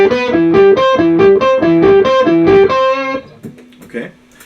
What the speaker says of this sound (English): add the pedal doing the lower octave